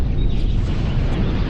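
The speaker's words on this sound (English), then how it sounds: "Christ, what was that? Explosion. Something big." A big explosion in the LA Noire video game on PS4 rumbles as a steady, dense, far-off roar that fills the whole moment without any break.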